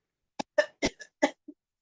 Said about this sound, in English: I even have to cough a little bit